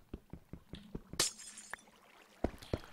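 Clear glass blocks breaking in modded Minecraft: a sharp shattering burst stands out among a run of short, evenly spaced clicks and knocks, followed by a few more isolated clinks and thuds.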